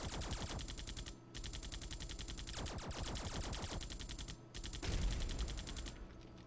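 Rapid automatic turret fire in the sci-fi strategy game Centauri Sector, a dense, loud mechanical rattle of shots running in long bursts with brief pauses, close and sustained.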